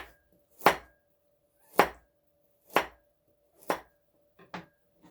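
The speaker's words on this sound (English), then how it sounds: "Now just gonna cut it like that" A knife chops an onion on a cutting board, four firm, evenly spaced strikes and a lighter fifth, close and clear with quiet between cuts.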